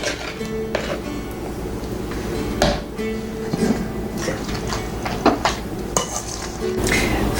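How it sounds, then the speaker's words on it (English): Spoon scraping and clinking against a bowl while mayonnaise dressing is mixed into a broccoli salad, with irregular close-up stirring sounds and soft wet squelches. "Now we'll add our mayonnaise mixture and get that in, and then mix it well."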